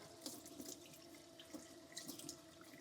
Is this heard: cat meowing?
no